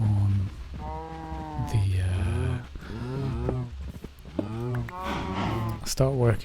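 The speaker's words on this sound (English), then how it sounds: "Come on, cows." Cattle in a farm-building video game low repeatedly over several seconds, a series of drawn-out moos overlapping one another, fairly close and steady.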